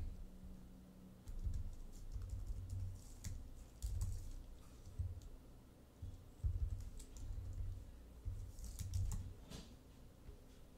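Keystrokes on a computer keyboard while code is written, irregular bursts of clicky taps with short pauses between runs, close and moderately quiet with no voices.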